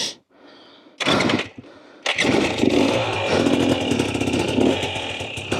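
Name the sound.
Husqvarna TE250 TBI dirt bike engine lugging in first gear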